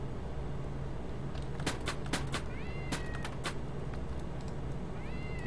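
A pet cat in the video game Starbound meows repeatedly, several short bright cries clustered in the middle of the clip, with a couple of rising electronic tones over a steady low game hum.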